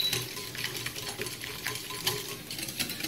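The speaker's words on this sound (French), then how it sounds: "mélangez." Whisk or spoon stirring flour into an egg mixture in a bowl, a soft continuous scraping and tapping at moderate closeness with no voices.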